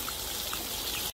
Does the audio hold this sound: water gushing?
yes